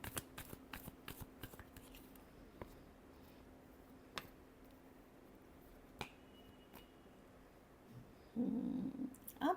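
Tarot cards being shuffled, with a quick run of crisp riffling clicks at the start, a few scattered snaps afterwards and a louder burst of handling near the end, all quiet and close.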